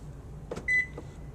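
Toyota Avalon doors locking via the smart key, a soft mechanical clunk followed by a short electronic chirp, quiet and close with no talking.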